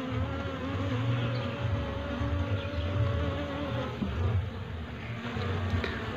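Bees kept as a colony in a garden hum in a dense, continuous, close-up buzz that stays loud and steady throughout, with no talk.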